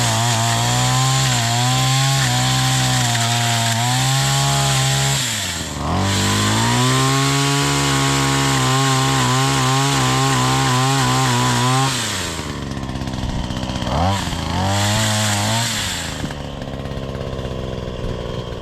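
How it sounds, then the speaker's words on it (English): A Wild Badger all-in-one power tool with a chainsaw attachment trims a tree limb overhead, a loud, close engine whine that rises and falls as the chain bites, pausing briefly and revving again. "This chainsaw attachment works absolutely awesome."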